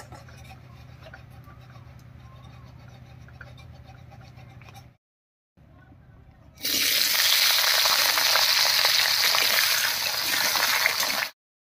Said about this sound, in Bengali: এবার কড়াইতে সরষের তেল দিয়ে আলুটা আমি ভেজে নিচ্ছি।